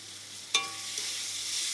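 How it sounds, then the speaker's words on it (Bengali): Onions and potatoes fry in a pan with a steady, close sizzle, broken by a sharp utensil knock against the pan near the start and a softer tap later. "পেঁয়াজটা লাল লাল করে ভাজা হচ্ছে আস্তে আস্তে।"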